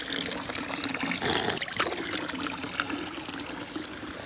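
Free drinking water fountain in Vatican City running steadily, a continuous splashing trickle of water heard close up with a brief louder gush partway through.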